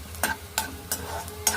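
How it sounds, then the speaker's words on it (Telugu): Whole cinnamon, cloves, cardamom, cumin and fenugreek seeds fry in hot oil on a stove, a soft steady sizzle broken by four quick rhythmic scraping stirs of a spoon in the pan. "స్టవ్ వెలిగించుకొని ఆయిల్ వేసుకోవాలి. ఇప్పుడు దీంట్లో పట్ట, లవంగం, యాలగలు, జీలకర్ర, మెంతులు వేస్తున్నది."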